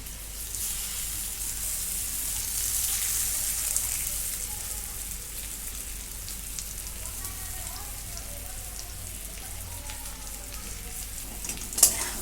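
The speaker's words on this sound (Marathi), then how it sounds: "आता हा सगळीकडे मसाला मिक्स करून घेते" Masala being stirred into bitter gourd in a hot pan: a soft, continuous sizzle with faint scraping, fairly quiet throughout, with one brief sharp clink near the end.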